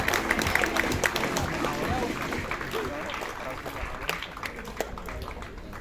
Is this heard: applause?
yes